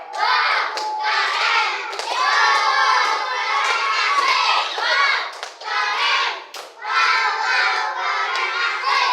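Children in a classroom perform the "tepuk keren" clapping routine, a dense, steady burst of many small hands clapping together with some shouting voices, close and lively for the whole stretch.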